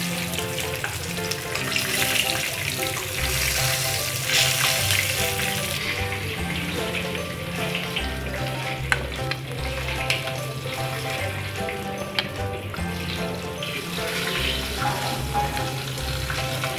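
Eggplant chips frying in hot oil give a continuous dense sizzle, close and steady throughout, with faint low knocks and clatter of utensils beneath.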